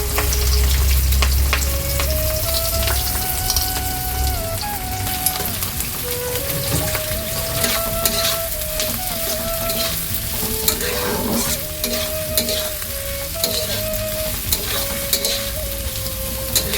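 Onions fry in hot oil in a kadai, giving a loud, steady sizzle with a stirring clatter that runs the whole time, under a faint tonal hum.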